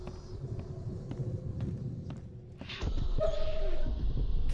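In The Sinking City video game, a puppy gives short yips and soft whimpers with small clicky sounds under a steady low background, then a voice speaks toward the end.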